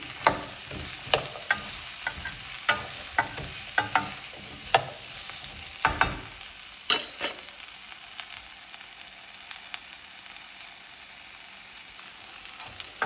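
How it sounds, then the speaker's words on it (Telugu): Okra frying in oil in a pan for tamarind gravy, a soft steady sizzle punctuated by regular clanks and scrapes of a spoon stirring, the stirring stopping partway and leaving the quieter sizzle alone. "ఇప్పుడైతే నేను బెండకాయ వేసి వేయించుకుంటున్నాను అండి"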